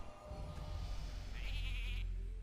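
Sheep bleat from the Polymorph spell in the card game Hearthstone: a single short, wavering, nasal bleat rises clearly above a steady low game backdrop near the end.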